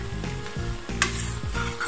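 Fish sizzling and being stirred in a hot pan during cooking for a bottle gourd and prawn curry, with steady frying hiss and a few scraping stir strokes, close and alone.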